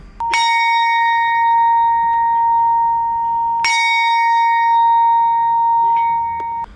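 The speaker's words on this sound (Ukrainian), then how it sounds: "Традиційно щомісяця у меморіальному сквері лунає дзвін пам'яті та молитва." Two clear memorial bell strikes in a memorial square, about three seconds apart, each ringing out with a long sustained tone over a quiet background.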